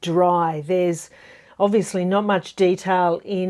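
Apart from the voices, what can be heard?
No distinct noise like a dog, phone or traffic.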